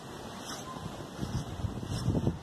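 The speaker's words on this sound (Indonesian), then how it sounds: "Anginnya kencang sekali." Strong wind gusting across a snowy front yard, a steady rushing roar buffeting the microphone and swelling louder in the second half.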